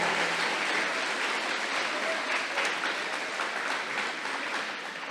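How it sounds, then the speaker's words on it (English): A school audience at an 8th grade middle school awards ceremony claps for student council members, a sustained, fairly distant round of applause with a steady, even level. "can we keep that round of applause going for all of our student council members"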